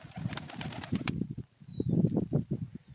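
Pigeons eating grain nearby, a quick run of fluttering wingbeats followed by a brief pause and then another burst of close flapping, with faint soft sounds in between.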